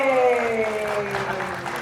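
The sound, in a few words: audience applause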